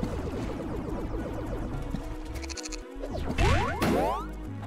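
Goat in the video game Corn Kidz 64 bleats several times over bouncy game music and boing-like effects, the cries short and wavering, fairly close and moderately loud.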